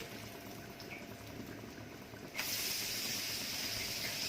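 Skate fish liver fries in a pan with a steady, close sizzling hiss that swells suddenly louder partway through and then holds strong and even.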